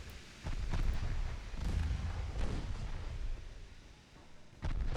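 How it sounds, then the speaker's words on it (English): Heavy battlecruiser naval guns in Ultimate Admiral Dreadnoughts, a 1913 French campaign battle off Sumatra, rumbling deep booms and rolling concussions, with a dense low roar and a sharp fresh salvo near the end. "We're taking fire from the battle cruisers."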